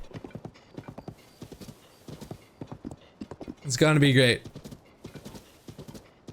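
Horse hooves clip-clop steadily in Zelda: Tears of the Kingdom, a brisk rhythmic trot continuing throughout, with a horse whinnying loudly midway and a person talking briefly.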